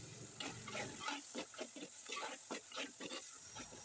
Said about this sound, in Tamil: இதை நல்லா வந்து கலந்து விட்டுக்கலாம்.